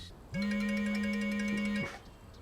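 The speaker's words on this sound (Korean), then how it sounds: "타이밍도 얄궂게 울려 퍼진 전화 한 통이 분위기를 얼어붙게 만듭니다." A phone rings in a tense scene from a Spanish-language thriller drama: a single steady electronic tone held for about a second and a half, fairly loud against a quiet background.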